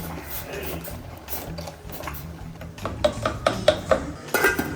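A spoon scrapes and clinks around a cooking pot of thick hot chocolate with oatmeal. The stirring starts soft, then turns into louder, rhythmic metallic knocks near the end, with no voices.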